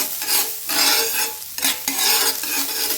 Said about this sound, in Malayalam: നമുക്ക് സവാള വെച്ചിട്ട് നന്നായി ഒന്ന് മൂപ്പിച്ചെടുക്കാം